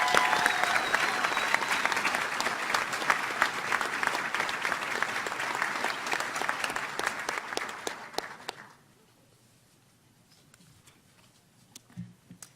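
An audience at a veterinary college oath and hooding ceremony gives a round of applause to graduating house officers. The dense clapping runs strongly for about eight seconds, then fades into near silence with a faint late sound.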